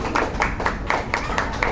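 Several hand claps in a steady, fairly quick rhythm, moderately loud and close, with faint background noise.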